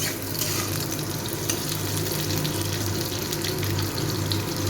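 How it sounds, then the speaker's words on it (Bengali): Potatoes frying in oil in a wok give a loud, continuous crackling sizzle, dense and close-up, steady throughout with no talking. "আমি এই তেলটার মধ্যে আলুগুলোকে একটু লাল করে ভেজে নেব।"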